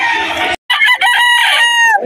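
A gamecock rooster crows loudly and close, one long strained call after a brief break, ending in a drawn-out tail.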